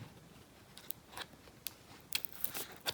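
Cutting with dull scissors: a few sharp, close snips and clicks spaced irregularly over a faint background, with no talk.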